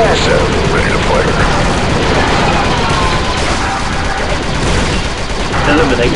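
Blaster gunfire from the Republic Commando video game on Geonosis rattles in dense, continuous bursts throughout, mixed with game effects and clipped squad voices talking over the shooting.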